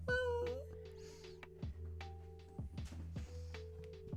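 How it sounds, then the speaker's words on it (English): A domestic cat meows loudly and clearly at the start, a single drawn-out call, followed by indoor room noise with low hum and small clicks. "I don't know if you guys can hear the cat."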